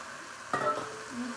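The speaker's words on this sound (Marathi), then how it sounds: "एक जोडी मेथीची भाजी मी नीट करून दोन ते तीन पाण्याने स्वच्छ धुवून घेतलेली आहे यामध्ये टाकून घेऊ" Washed fenugreek leaves drop into a hot tempering of cumin, giving a sudden burst of sizzling that quickly settles into a softer crackle, close and brief.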